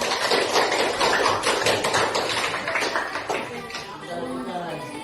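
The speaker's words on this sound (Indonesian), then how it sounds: "berikan tepuk tangan untuk kelompok 2" A burst of applause from a group, many hands clapping briskly under a speaking voice, then tapering off as talk continues.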